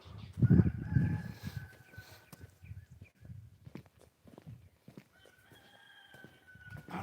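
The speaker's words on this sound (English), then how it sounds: "So you hear the roosters waking up." Distant roosters crow in long drawn-out calls, faint under nearby rustling and footsteps, with a second crow rising later.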